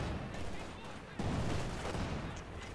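Strafing gunfire in the Company of Heroes 2 battle game, with dense, rumbling bursts of shots under a wash of battle noise that swell louder midway.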